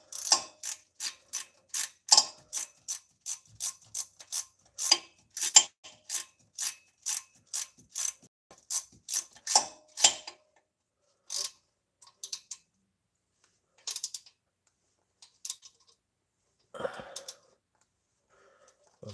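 Rapid ratchet clicks from a socket wrench tightening exhaust manifold bolts on a Chevy Astro, a steady run of close, crisp clicking bursts for about ten seconds, then sparser short bursts with pauses.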